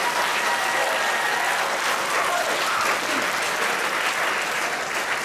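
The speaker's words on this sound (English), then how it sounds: "Round of applause for the nominees" Loud, sustained applause from an awards-ceremony audience at the HBA National Hospital Radio Awards greets the nominees for best special event, a thick, unbroken roar of clapping at constant strength from start to finish.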